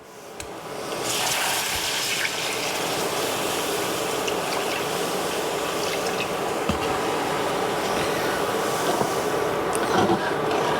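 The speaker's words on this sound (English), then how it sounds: "then I'm going to add the milk" 3% homo milk pours into biscuits and gravy, a continuous close gurgling stream of liquid that starts after a brief pause and runs steadily to the end.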